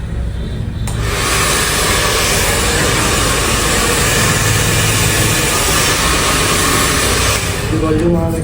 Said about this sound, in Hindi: ड्रायर आपको यहाँ से चलाना है।